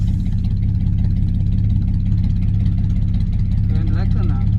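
A 1.4 Opel Corsa engine pulls hard at full throttle, a loud, steady, buzzy drone heard from inside the car, with someone talking over it toward the end.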